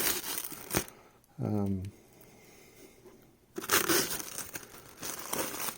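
Plastic protective film crinkles and crackles as it is peeled off an aftermarket Toyota FJ40 gauge cluster, in short bursts, with a brief voice-like tone between them and a longer stretch of crinkling at the end.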